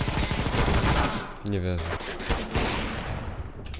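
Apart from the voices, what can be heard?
gunfire from the video game CS:GO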